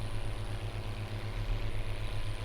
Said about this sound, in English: I like this tractor, this is nice. I really like the sound of it also.